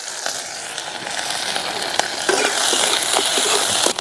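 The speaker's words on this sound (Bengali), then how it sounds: "পেঁয়াজ কাঁচামরিচ জিরা সব কিছু দিয়ে আমি এই যে ভেজে নিলাম" Onion, green chilli, cumin seeds and dried chilli frying in oil in a wok, a continuous close sizzle that grows louder toward the end, with scattered scraping stirs of a spatula.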